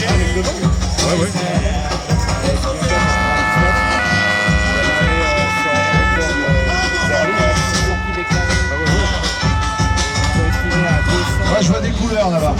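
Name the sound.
fire engine siren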